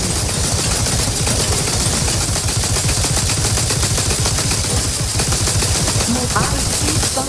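Continuous, dense automatic gunfire in the video game The Outer Worlds 2, a loud rattling barrage that fills the whole stretch with rapid shots and no pause.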